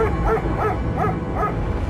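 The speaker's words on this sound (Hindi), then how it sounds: "मेरे कुत्ते फोर्टी ने भौंककर मुझे जगा दिया।" A dog barks in a steady run of about four close, evenly spaced barks over a low, rumbling background roar.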